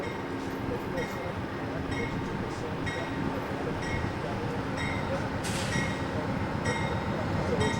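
The Amtrak Downeaster 681 from Boston rolls into the Saco platform with a steady, broad rumble of wheels on rail and faint metallic clinks throughout, heard from close by.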